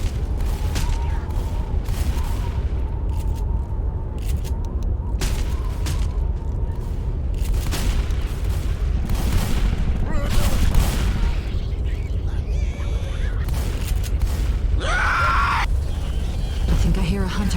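Gunfire in the battle-royale game Apex Legends on the Dead Air map, including an Uzi firing at a tank, with bursts of shots amid dense game noise and continuous background action throughout.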